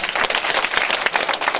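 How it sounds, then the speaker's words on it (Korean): A crowd at a South Korean lawmaker's constituency report meeting in Geumam-dong, Jeonju, claps for a neighbourhood patrol leader, a lively burst of many hands with uneven, fluttering rhythm, fairly close and continuous throughout. "박수 한번 부탁드릴게요."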